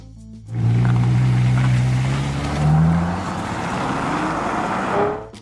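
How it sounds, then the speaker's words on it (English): Ferrari F12 Berlinetta V12 engine roaring close and loud, rising in pitch through a strong rev, easing back, then swelling again and holding before cutting off near the end. "The Italian has arrived, and honestly, it was only a matter of time."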